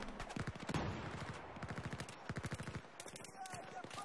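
Rapid, evenly spaced gunshots fire in quick bursts in Battlefield 4, an automatic weapon rattling at close range with a voice briefly audible alongside.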